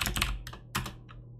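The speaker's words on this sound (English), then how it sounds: "I love the lovely sounds of the keyboard." A computer keyboard clacks during a session of the online game Town of Salem, with a short burst of several quick, close keystrokes followed by a couple of scattered taps.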